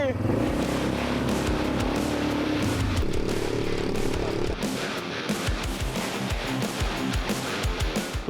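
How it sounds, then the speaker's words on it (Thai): An ATV engine drones and strains as the vehicle climbs uphill in a rural mountain village. The motor is loud and sustained at first, then gives way to rougher, bumpy rumbling, with voices faintly audible in the mix. "ตอนนี้ขับ ATV กันขึ้นไปข้างบน ลุย"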